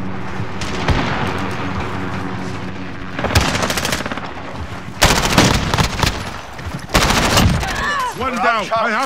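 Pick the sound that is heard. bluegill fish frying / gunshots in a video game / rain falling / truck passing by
gunshots in a video game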